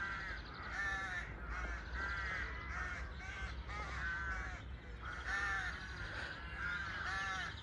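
A flock of crows caws repeatedly, harsh calls overlapping in steady bursts, fairly close, over a low background rumble.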